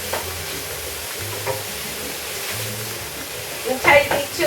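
Ground turkey sautés in a pan with a steady, soft sizzle and occasional stirring scrapes, louder near the end, while a low voice talks faintly underneath.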